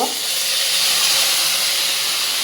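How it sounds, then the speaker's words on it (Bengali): Ginger garlic paste hits a hot pan with a splash of water, giving a loud, steady steam-like sizzle and hiss that holds unbroken throughout, with no talk. "এইদিকে আদা রসুন বাটাগুলো আমি দিয়ে দিলাম, আর অল্প করে আমি একটু পানি দিয়ে দিব।"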